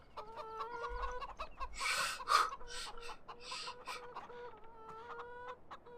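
Chickens cluck repeatedly in a farming video game, a steady run of short calls over a soft ambient background with no talking.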